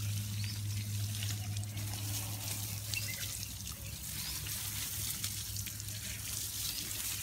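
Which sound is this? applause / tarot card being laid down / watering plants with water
watering plants with water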